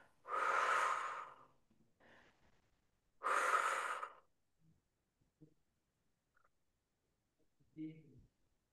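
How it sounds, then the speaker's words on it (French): Deep breaths during a Pilates session: two long, strong inhales or exhales, each about a second, several seconds apart, close and clear, followed by faint small breaths and rustles in a quiet room. "Enfin, on fait trois respirations profondes."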